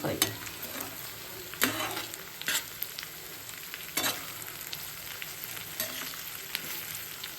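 Roughly chopped garlic frying in a pan, a continuous crackling sizzle with repeated sharp spatula scrapes and knocks against the pan at irregular intervals, close and fairly quiet.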